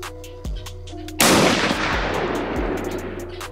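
A sniper rifle fired from atop a shipping container at a tomato in late-afternoon open air, giving one sharp, loud shot with a long rolling echo, after a couple of softer knocks.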